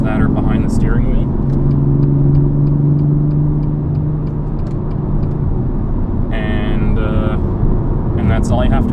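A BMW M2 on a race track gives a steady, loud engine drone with a low rumble that rises and falls slightly through gear changes, while a voice talks over it.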